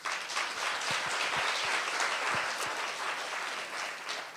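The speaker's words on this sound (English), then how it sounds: "I'd like you to give a clap for all those people right now." An audience applauds for volunteers who helped at a women's shelter, steady dense clapping filling the room for the full stretch at an even loudness.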